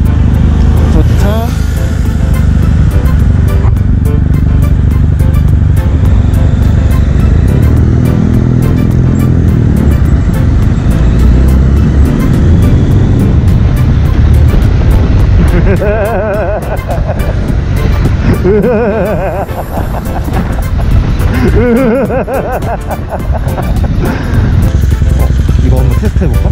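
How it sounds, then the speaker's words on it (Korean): A Honda VFR1200F motorcycle on the road during a long holiday bike tour gives a loud, continuous engine and wind roar, with voices talking over it throughout. "아이고, 오토바이"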